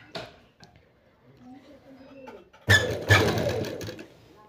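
A sewing machine stitching anarkali frock fabric runs in one loud, close burst of rapid needle clatter, preceded by soft speech and quiet handling.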